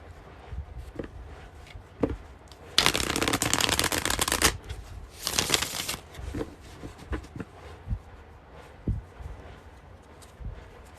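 Tarot cards are shuffled in two quick riffling bursts, crisp and close, followed by softer scattered taps and handling sounds in a quiet room.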